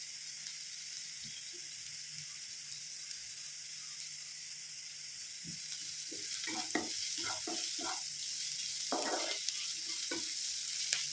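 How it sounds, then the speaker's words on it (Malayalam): Sliced onions sizzle in a pan for onion puttu, with a steady frying hiss and, about halfway through, a run of quick stirring scrapes and clicks close by. "സവാള നല്ലതുപോലെ ഒന്ന് വരം വെക്കണം"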